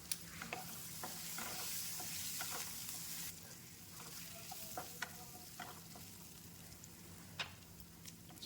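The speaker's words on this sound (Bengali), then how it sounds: "টুকরো করা আলুগুলো দিয়ে দিচ্ছি, দিয়ে একটু ভেজে নিয়ে দিয়ে দেবো 2 চিমটে মতো লবণ" Potato pieces fry in oil in a wok, making a steady soft sizzle broken by frequent clicks and scrapes of stirring, close by, with no voices.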